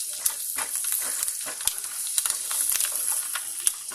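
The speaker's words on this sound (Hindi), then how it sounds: "और हल्का सा हम सोटे करेंगे इसमें" Ginger, whole red chili and peeled garlic sauté in butter in a pan, giving a steady close sizzle with scattered crackles and a few sharp pops, no voices.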